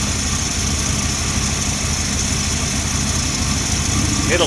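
A 1978 Dodge W150 truck engine idles steadily while warming up, a continuous low rumble with broad hiss close by, running alone without a break.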